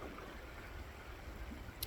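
A creek flows steadily outdoors with a soft, continuous rushing and babbling wash that stays even and fairly close throughout, with no voices.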